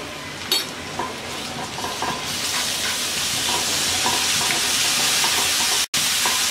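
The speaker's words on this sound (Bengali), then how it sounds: "পেঁয়াজটা হালকা ভেজে নেব" Chopped onions sizzle steadily in hot oil for a spiny gourd curry, a dense continuous hiss with occasional stirring scrapes, close and fairly loud, with no voices.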